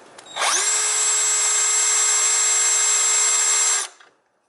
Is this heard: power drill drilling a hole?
yes